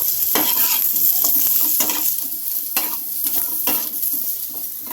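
Green mango pieces sizzle and fry in hot oil with popped mustard seeds, a steady loud crackle broken by repeated scraping strokes of a spoon stirring the pan, with no voices.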